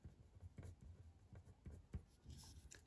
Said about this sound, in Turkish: Dolayısıyla önce bir yazalım.